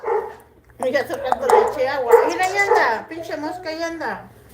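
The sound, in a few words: puppy barking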